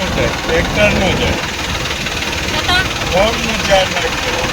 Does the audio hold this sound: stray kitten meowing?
no